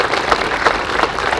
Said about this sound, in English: let's give a round of applause to Scouting USA too